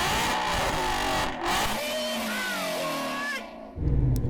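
A BMW M4 CS straight-six revs hard during a sound check, a loud, continuous engine roar rising and falling in pitch through several pulls before easing off near the end.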